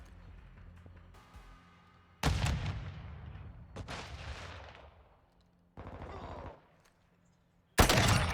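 Mortar strike explosions in Call of Duty Modern Warfare 2 gameplay: several loud, sharp blasts with rumbling, decaying tails, separated by brief quiet gaps, and a final burst at the end.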